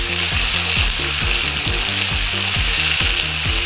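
Mixed vegetables and green peas frying in a pan over medium flame for vegetable pulao: a loud, close, continuous sizzle with rhythmic stirring scrapes and a low repeating tonal hum underneath.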